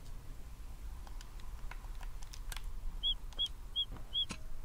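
Four short, high chirps from a bird in the video game Deiland ring out at an even pace over quiet clicks and a low background hum.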